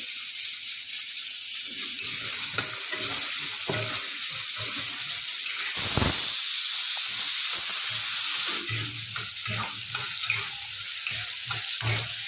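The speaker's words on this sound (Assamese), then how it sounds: "এইখিনি ৰঙা হোৱাকৈ ভাজি" Steady, loud sizzling of food frying in hot oil, a bright continuous hiss with occasional crackles and a brief surge partway through, no voices.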